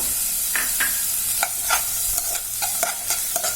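Small pieces of chopped carrot go into onions sautéing in a pan for Maggi noodles, giving a bright close sizzle with quick scraping stirs and light taps, unaccompanied by voices.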